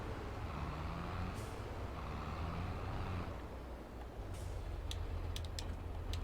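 A truck trailer being disconnected in the video game Farming Simulator 22: a steady idling engine hum runs throughout, with soft air-brake hisses partway through and a few sharp clicks near the end, no talk.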